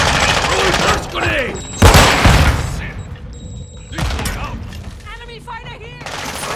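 A grenade explosion and gunfire in Call of Duty Modern Warfare 2 make a loud close boom followed by scattered shots and rattling bursts, with shouted in-game voice callouts heard among them.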